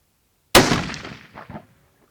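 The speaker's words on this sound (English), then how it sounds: "My first bullet is going to be kind of my test bullet." Single loud rifle shot from a Ruger .30-06 fired outdoors at a 100-yard target, a sharp crack followed by a rolling echo that fades out over about a second.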